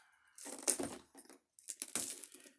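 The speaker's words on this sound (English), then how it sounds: "There's the keys." Keys jangle close to the microphone during a card game unboxing, in two bursts of bright metallic clinking and rattling separated by a short pause.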